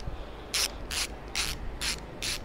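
A half-inch ratchet wrench from a 123-piece Deli Tools socket set clicks in five short, evenly spaced bursts of rapid pawl ticks, heard close and clear with no talking.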